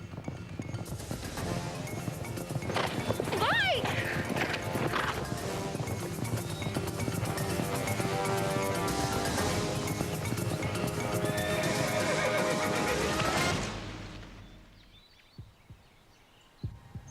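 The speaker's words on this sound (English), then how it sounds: "something spooked the horse and he took off running" A spooked ex-racehorse gallops with loud, rapid hoofbeats and neighs shrilly partway through, then the pounding fades abruptly into near silence with a few faint knocks.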